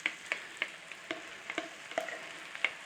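Gravy made from granules sizzling in a pan with corned beef hash, a soft, quiet bed of frying crackle punctuated by a dozen or so sharp spits and pops.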